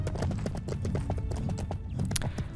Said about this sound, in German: Wir reiten fort.